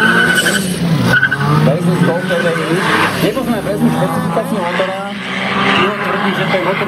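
A Skoda 120 turbo drag-races with loud, steady engine roar and tire squeal throughout, while a voice talks over it.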